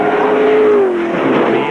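A V8 Supercar at the 2002 Clipsal 500 race roars past at about 230 km/h, a loud sustained engine howl with a falling pitch as it sweeps by close up, no voices over it.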